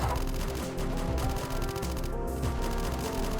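Dense, continuous gunfire and explosive bursts from the AM2R Samus Returns video game, rapid and loud without pause, layered over game music and effects.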